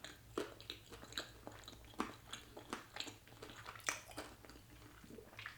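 A chocolate glazed vegan doughnut with starry sprinkles is bitten and chewed up close, soft crunches and wet mastication clicks repeating at an uneven pace, quiet against a faint low hum.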